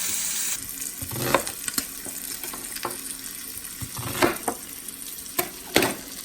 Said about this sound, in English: get my meats in here, and they're just going to fry up a little bit